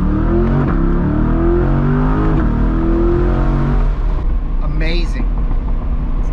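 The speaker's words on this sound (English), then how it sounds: "Listen to those burbles." A modified C8 Corvette with an ArmyTrix exhaust drives in second gear, its engine note loud and steady with burbles and pops, closely recorded, with a brief higher crackle near the end.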